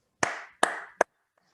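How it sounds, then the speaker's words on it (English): Three sharp, close handclaps in a quiet room during an online Toastmasters native-language speech event, evenly spaced and quickly finished, with nothing else around them. "with a virtual round of applause, please put your hands together"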